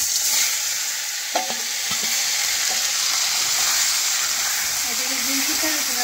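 Steady loud sizzling of potatoes frying in a pan, with a few clinks of a utensil stirring; no talking.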